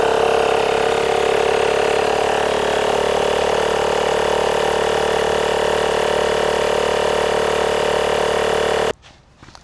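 An Auxbeam portable air compressor drones steadily while inflating a tire, a loud, even motorized hum with a buzzing pulse that runs unbroken for about nine seconds and then cuts off abruptly, leaving only faint handling noises.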